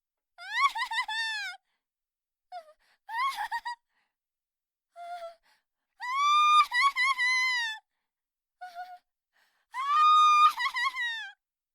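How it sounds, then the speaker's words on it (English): A female student's synthesized scream and gasp effects for a yandere horror game, several short pitched vocal cries in bursts with silent gaps between them. "Sprinkle with some original sounds for female student screams"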